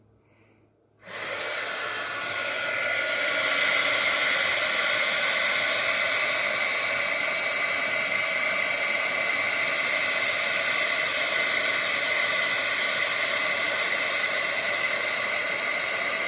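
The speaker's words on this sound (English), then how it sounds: "if we want to speed that up, we can take our heat gun" A heat gun blows to dry watercolor ink. It switches on after a second of quiet, then holds a loud, steady roaring hiss to the end.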